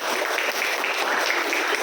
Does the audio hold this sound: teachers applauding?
yes